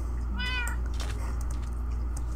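A single cat meow in the Minecraft video game, clear and mid-close, rising then falling over a steady low game hum, with no talking.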